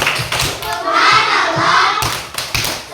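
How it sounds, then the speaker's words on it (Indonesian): Children in a classroom group do a rhythmic chanted clap routine, with sharp clusters of hand claps alternating with sung or shouted voices, close and loud. "Beri tepuk hebat untuk kelompok Nabi Muhammad."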